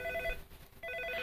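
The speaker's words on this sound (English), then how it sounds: "Okay, so this is ringing." Office telephone line ringing before an auto attendant picks up, two bursts of electronic warbling ring separated by a brief gap, clear and close.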